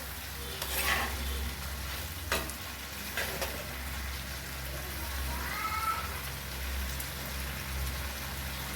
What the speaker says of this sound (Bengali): এবার ভালোভাবে নেড়ে নেব